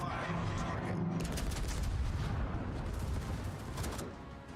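Warship guns fire in a naval combat game, a dense, continuous barrage of booming rumbles and cracks that fades slightly toward the end.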